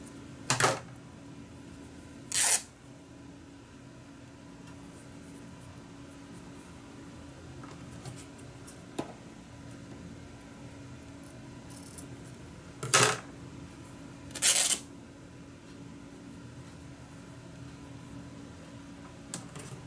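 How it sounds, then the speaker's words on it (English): Fabric scissors cut through cloth in a quiet room during slow-stitch sewing. A few sharp, isolated snips are spread across the stretch, with near silence between them. "fabric scissors."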